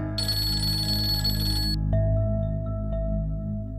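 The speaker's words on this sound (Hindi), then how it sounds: "नहीं, फरहान की माँ मुझे क्यों फोन कर रही है?" A telephone rings with a bright, repeating electronic trill that cuts off partway, leaving a lingering tonal hum over a low steady drone.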